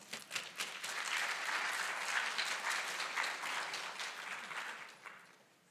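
An audience at a physical therapy program white coat ceremony claps steadily for several seconds as a speaker is welcomed, a dense even wash of applause that swells and then tapers off.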